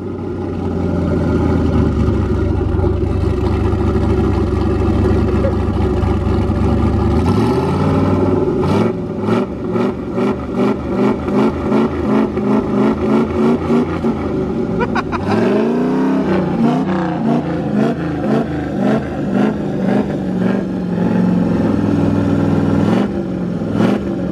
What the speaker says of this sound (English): Logan, just grab the throttle and hold it wide open